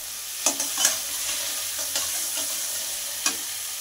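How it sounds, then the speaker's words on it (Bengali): Small river mourola fish with potato and bori sauté in a pan with white mustard and poppy seed paste, a loud continuous sizzle broken by a few sharp clicks of a stirring spoon. "পোস্ত বাটাটা দিয়ে কিছুক্ষণ কষিয়ে নেব।"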